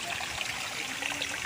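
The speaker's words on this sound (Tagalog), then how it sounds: "may batis dito" A small stream runs beside a house in a rural farming area, giving a steady, close trickle and rush of water that fills the whole moment with no voices over it.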